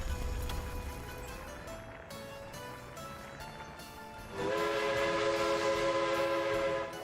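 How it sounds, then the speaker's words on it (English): A train in a video game set around 1900 rumbles along with a steady low drone, then a loud sustained horn or whistle tone swells in partway through and holds to the end, heard alone without talk. "Loud train."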